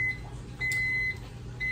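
A microwave oven runs with a low, steady mechanical hum and a thin, high tone that cuts in and out, close by and fairly quiet.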